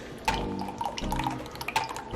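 Liquid pours from a shaker into a glass for a homemade holiday cocktail, a close trickle with small splashes and drips in uneven bursts.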